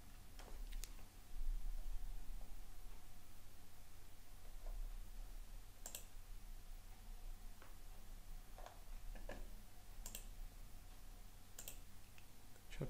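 Sparse, faint computer mouse clicks while editing an online store theme for a custom T-shirt shop, a handful of isolated sharp ticks spread over a quiet room hum.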